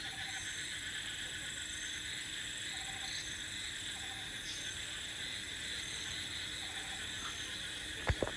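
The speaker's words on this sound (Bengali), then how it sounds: "ঝিঁঝি পোকার ডাক, ব্যাঙের ডাক" Crickets trill steadily and frogs croak in occasional short calls at night in rural Purulia during the monsoon, heard from a homestay balcony as a constant, even chorus with a brief knock near the end.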